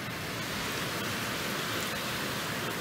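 Steady, dense roar of heavy rain, continuous and broadband with no gaps, close and loud throughout.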